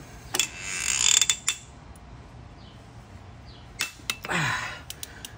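A ratchet tightening cylinder head bolts on a Kia Soul 2.0 engine during reassembly, two short bursts of close mechanical clicking separated by a quiet pause, with no voices.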